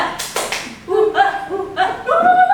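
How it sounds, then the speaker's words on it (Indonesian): A group performs the tepuk rimba clap routine in a classroom training session, with a few sharp claps up front followed by voices chanting together. "Yang pertama, tepuk rimba."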